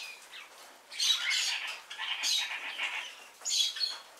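A tiny Pacific parrotlet and a much larger cockatoo in a parakeet aviary let out harsh, high squawks. The calls come in several loud, close bursts with short gaps between them, and no one speaks.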